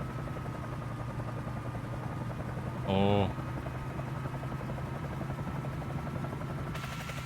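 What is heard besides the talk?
Bell 47J Ranger helicopter in Microsoft Flight Simulator video game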